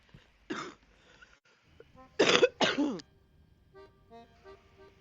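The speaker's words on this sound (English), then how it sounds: "Sorry about coughing in your ears." Several harsh coughs from one person, close to the microphone: a single cough, a pause, then two heavy coughs in quick succession, followed by quiet room sound.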